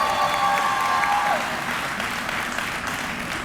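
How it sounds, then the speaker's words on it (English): Audience applause at a winter commencement ceremony honoring Army service, a full crowd clapping steadily and loudly with a faint whistle-like tone early on, sustained throughout. "you can give the Army a round of applause"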